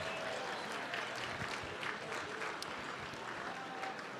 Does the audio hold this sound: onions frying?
no